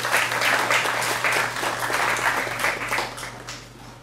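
An audience at a poetry reading in a small venue claps after a poem, a steady close burst of applause that tapers off toward the end.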